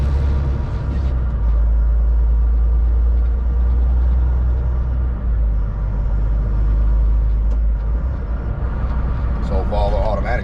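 An automatic truck rolling along a backwoods road, its engine rumbling deep, loud and steady from up close the whole time, with faint rattles near the end.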